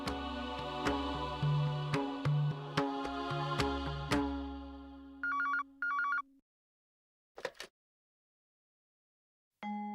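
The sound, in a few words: telephone ringing for a call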